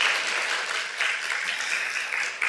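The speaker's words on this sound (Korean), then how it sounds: "감사의 박수 보내드리고 할까요?" A church congregation breaks into a steady round of applause in thanks, dense and even clapping filling the space from start to finish with no one talking over it.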